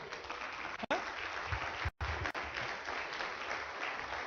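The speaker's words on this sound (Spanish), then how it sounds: "Esto merece un aplauso al Señor." Congregation clapping during a church service, a broad steady wash of applause with brief drops, fairly close and continuous throughout.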